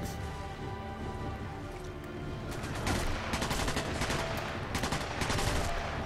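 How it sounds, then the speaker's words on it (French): Rapid bursts of submachine gun fire ring out loud and dense in the Sniper Elite V2 video game, rattling continuously over a busy soundtrack, with the firing growing heavier partway through. "Je vais prendre la mitraillette."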